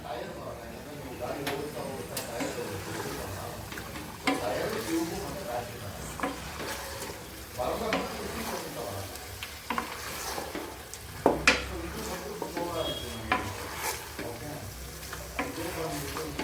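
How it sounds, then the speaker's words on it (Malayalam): Chicken biryani masala being stirred and sautéed in a pan, with steady sizzling and repeated scraping clicks of a spoon against the pan; a person talks over the cooking. "നമുക്കത് ഇതിനകത്തോട്ട് ചേർത്ത് നന്നായിട്ട് വഴറ്റി കൊടുക്കാം"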